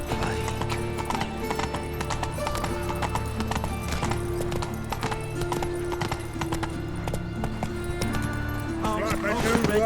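Roach the horse galloping in The Witcher 3, a rapid, steady run of hoof clip-clops with a snort or whinny, layered over a continuous game music bed at constant loudness.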